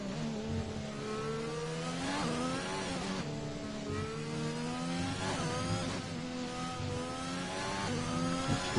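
An Alpine Formula 1 car on an onboard lap at Abu Dhabi in an F1 video game, its engine screaming loud and continuous, pitch climbing through the gears with brief drops at each upshift, no voices.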